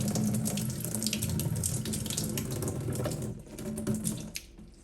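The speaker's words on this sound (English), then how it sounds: "just turn it on slowly, let some of that water come out. Basically flush it out." A kitchen faucet with its aerator removed runs steadily as water is flushed through it, a loud continuous splashing gush that eases slightly near the end, with no talking.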